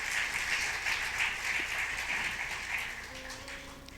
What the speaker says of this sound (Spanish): déselo fuerte el aplauso al Rey